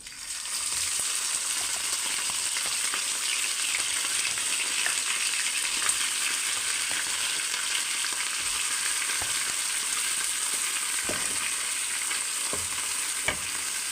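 Mutton, a kilo and a half with pepper, frying in hot oil for Kashmiri mutton rogan, giving a steady, dense sizzle that holds level throughout, with a few faint clicks near the end and no talking.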